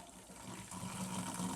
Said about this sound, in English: So we'll put the tap on,